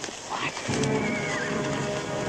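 Horses whinny and neigh in a Western film scene, with a steady clip-clop of hooves and general bustle filling the short stretch.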